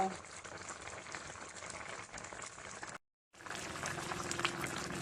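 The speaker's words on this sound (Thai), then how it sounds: "ตอนนี้ต้มบอนให้เปื่อยก่อน" Taro stems bubbling at a steady boil in a pot for a Thai-style taro curry, a dense continuous simmering roar with a brief silent break midway.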